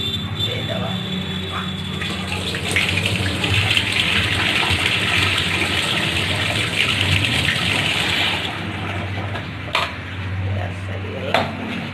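Water gushes from a vessel into arhar dal in an opened pressure cooker on a gas stove, a loud continuous pour lasting several seconds, followed by a few light clinks of utensils, with a voice speaking at times.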